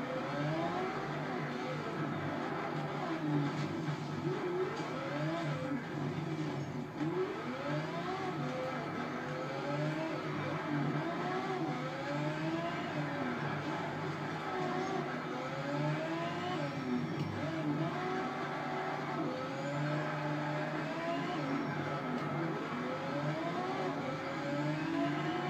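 A race car engine in the endurance racing game Need for Speed Shift drones and whines steadily, rising and falling in pitch through repeated gear changes at a moderate, even level, with no talking.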